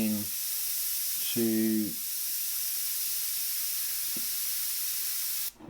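An airbrush sprays paint with a steady, soft hiss that runs through the whole stretch, while someone talks briefly over it near the start.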